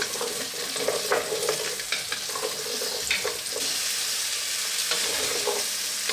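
Espagnole brown sauce base with beef stock being stirred in a pan over heat, steady sizzling and bubbling with repeated scraping strokes of a utensil, moderately loud and close without talk.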